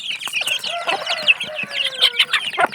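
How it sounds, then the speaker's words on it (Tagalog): Several chickens cluck and squawk close by in a busy, overlapping chorus, with sharp calls scattered throughout. "Ayan ang ating mga alagang manok."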